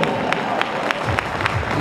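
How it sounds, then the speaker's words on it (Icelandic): Audience at an Icelandic horse show clapping, a dense crowd applause with periodic sharper claps, heard loud and close, with a voice talking over it. "Klappið fyrir þeim!"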